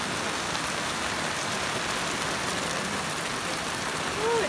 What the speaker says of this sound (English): Ooh, it's raining hard.